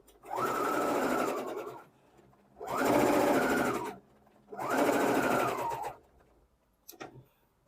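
Domestic sewing machine stitching broderie anglaise eyelet trim with yarn along the edge, heard as three steady whirring runs separated by short pauses, then a light click near the end.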